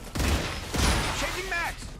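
Gunfire in StarRupture sounds as a quick burst of loud shots, mixed with game sounds and a voice speaking partway through.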